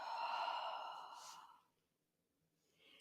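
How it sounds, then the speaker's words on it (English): A long, breathy exhale during a seated yoga twist in a calm morning session. It is close and soft, fades out over about a second and a half, and a faint breath follows near the end. "And breathing out."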